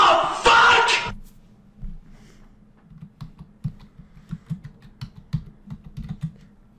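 Quick clicking keystrokes on a computer keyboard, close and fairly soft, in an irregular burst after a short loud shout at the start.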